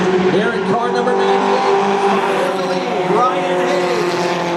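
Race cars circle a short oval at a Maine motorsports event, car number 98 among them, engines droning loud and steady with rising and falling pitch, a race commentator talking over the roar throughout.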